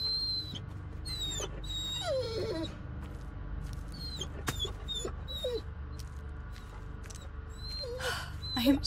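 A dog whimpering in the horror game Blair Witch: repeated high, wavering whines and yelps, some close and some fainter, over a low dark ambient drone, with a few sharp clicks in between.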